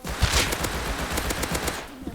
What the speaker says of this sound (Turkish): Thompson oyundaki en basit silahlardan biri.